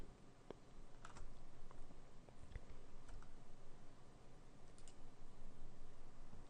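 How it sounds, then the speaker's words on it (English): Computer keyboard keys and mouse buttons pressed during 3D modeling work, a steady scatter of soft clicks and taps close by over a low room hum, with no talking. "If I hold the Alt key and the middle mouse button and the Control key, it will scale the image to the model."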